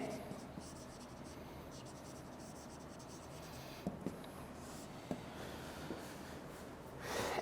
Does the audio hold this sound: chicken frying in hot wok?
no